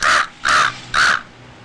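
A crow caws three times in a steady, evenly spaced series, each harsh call loud and close and standing alone with no other sounds.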